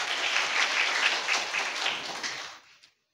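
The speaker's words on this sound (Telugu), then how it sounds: "అందరు గట్టిగా చప్పట్లు కొడుతూ మహిమపడదాం." A church congregation at a fasting prayer service claps loudly together, producing dense, sustained applause that fades out near the end.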